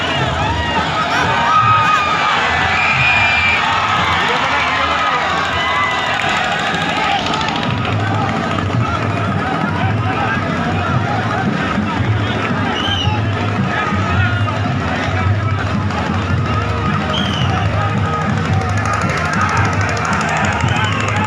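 A dense crowd clashing at a rally, with continuous loud shouting, screaming and chaotic babble filling the whole stretch and no pause or letup.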